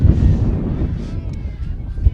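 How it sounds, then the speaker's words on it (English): Strong wind at an outdoor high school softball game buffeting the microphone: loud rumbling gusts that ease off slightly partway through, with a bump near the end. "You can hear that wind. It is blowing very hard here today."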